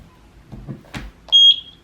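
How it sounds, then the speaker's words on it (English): A single sustained high electronic beep rings out clearly from a Eufy SoloCam S40 solar security camera after its sync button is held, following a few soft handling noises, holding steady for about a quarter second. "There's our beep."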